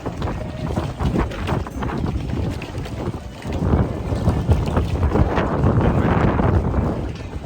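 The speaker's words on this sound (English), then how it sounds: "I made it outside right now and it was quite so windy." Strong wind buffets the microphone outdoors in Hong Kong, a loud, continuous rumbling roar that surges in gusts, heaviest in the second half, with no talk over it.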